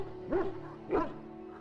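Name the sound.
dog barking and whimpering in video game Dragon Age: Origins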